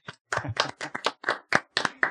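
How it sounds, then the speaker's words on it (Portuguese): A small group claps for the sponsor Araújo in quick, uneven bursts, close and dry, with the claps overlapping irregularly over about two seconds. "Palmas para Araújo, por favor."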